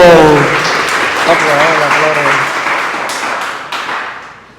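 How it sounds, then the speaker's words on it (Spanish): Congregation applauding at a Catholic Mass, dense clapping filling the church with a voice speaking over it, fading slightly toward the end. "Fuerte el aplauso."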